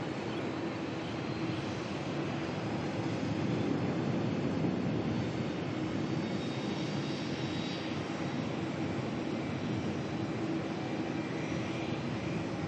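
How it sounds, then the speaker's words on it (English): A Jetstar A320 bound for Christchurch climbs out on departure at Melbourne, its jet engines giving a loud, sustained broadband roar with a harsh buzzing edge that stays steady throughout. "Some crazy sound coming off of the Jetstar 320 there that's making its way over to Christchurch"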